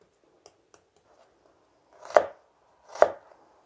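A knife chopping an onion on a board: two faint light taps, then two firm, close chops about a second apart against a quiet background.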